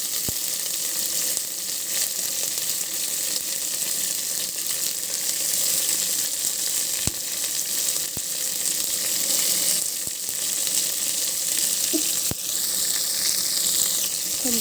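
Onion and curry leaves frying in oil make a loud, steady sizzle close at hand, broken now and then by a few sharp taps, with no talk.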